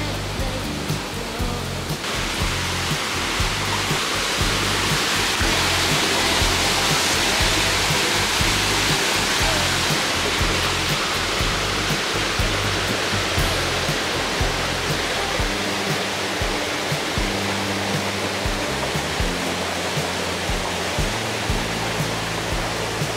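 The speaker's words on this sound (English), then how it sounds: "See the water comes down through." Waterfall at a campsite in Errol, New Hampshire, with water rushing down in a loud, steady roar that holds unbroken throughout, close by and alone.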